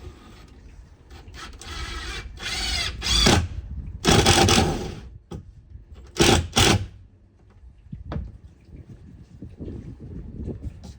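A 2-inch screw is driven into a shelf in the back of a Ford Transit T250 van, heard as several loud, bursty whirring runs of a power driver with short pauses between them, close to the microphone.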